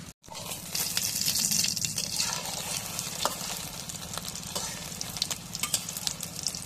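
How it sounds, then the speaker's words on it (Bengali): Eggs hit hot oil in a pan and sizzle loudly, settling into a steady crackling fry with scattered pops and spatters, close and continuous. "এখন ডিমগুলো দিয়ে দিই।"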